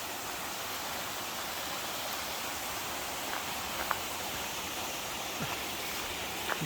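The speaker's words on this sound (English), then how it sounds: "Nice little waterfall about 1/3 a mile away from camp." Steady rushing water of a small waterfall near Baxter Creek in the Great Smoky Mountains, a continuous broadband hiss with a few faint clicks, no talking.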